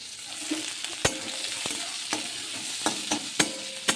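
Onions fry in oil in a pan with a constant close sizzle while a spatula scrapes and knocks against the metal in irregular sharp taps; no talking.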